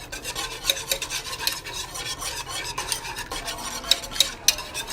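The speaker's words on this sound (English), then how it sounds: "you want to kind of whisk it together" A whisk scrapes and clicks steadily against a pan while chicken sauce ingredients are mixed, a close, continuous rasping stir with occasional sharper metallic taps and no talking.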